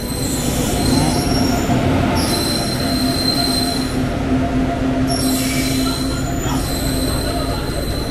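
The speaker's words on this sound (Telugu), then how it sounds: "ఫైనల్గా మన ట్రైన్ అయితే గుత్తి స్టేషన్కి అయితే వచ్చేసింది" A long passenger train pulls into Gooty railway station, its wheels squealing loudly and continuously over a steady rumble of rolling railcars, with a few brief bursts of higher screeching.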